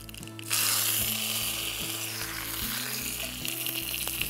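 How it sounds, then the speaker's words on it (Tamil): Mustard seeds and curry leaves hit hot oil for tempering a red rice and green gram adai batter, bursting into a loud, crackling sizzle that holds steady for several seconds with faint popping on top. "தாளிக்கிறதுக்கு ஃபஸ்ட்டு வந்து நம்ம கடுகு போடுறோம்"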